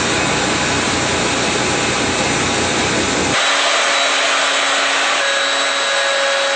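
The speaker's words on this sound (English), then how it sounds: "The next step is to take it over to the sander" Loud, steady whine of a power sander shaping the body of an electric violin, running continuously on its own; partway through the low rumble drops away and a thinner, higher-pitched drone carries on with no voices.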